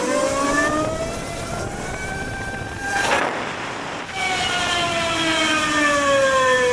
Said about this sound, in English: Make it pop a wheelie if you want to.